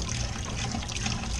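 Leftover water drains out of a pipe on water-cooled HVAC equipment after its strainer is pulled, a steady close trickle and splash that runs without a break.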